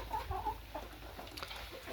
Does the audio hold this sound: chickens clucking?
yes